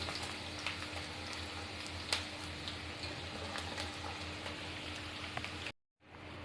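Chopped onion and garlic frying over medium-low heat in a pan with dried red chilli, a steady dense crackling sizzle with scattered pops, running alone until it cuts out briefly near the end.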